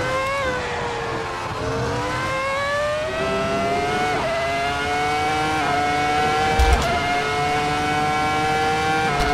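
A Ferrari F2004 V10 Formula 1 car screams around Silverstone in the racing game Assetto Corsa, its high-pitched engine note held loud and steady, rising through the gears with brief dips at each upshift, alone and close.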